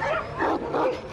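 Stray dogs bark and yelp in short, agitated bursts during an attack, close and fairly loud over background noise.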